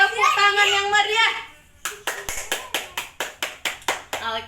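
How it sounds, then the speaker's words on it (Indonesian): After a short spoken line, an audience at a health and nutrition talk breaks into applause, a steady rhythmic run of about a dozen crisp hand claps, fairly close and clear. "untuk kita semua tepuk tangan yang meriah"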